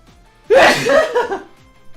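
A single sharp human sneeze during Pokémon Sword & Shield battle commentary, loud and close, bursting abruptly with a short breathy tail and no other sound around it.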